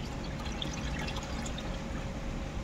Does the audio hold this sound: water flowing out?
yes